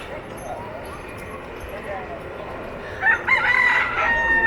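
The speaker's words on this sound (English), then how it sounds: "Chickens! Always get chickens. They're everywhere." A rooster crows loudly near the end over steady outdoor background noise and faint voices, with other chickens around, in Key West.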